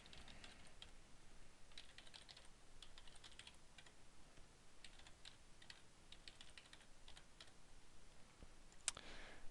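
Login details typed on a computer keyboard, a quiet run of quick irregular key clicks in bursts, close and faint, with no talking.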